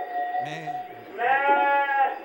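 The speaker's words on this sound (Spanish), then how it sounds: "¿Y qué son esas ovejas?" Recorded sheep bleating played as a sound effect during a church sermon, a couple of clear wavering bleats close up with a quieter sound just before.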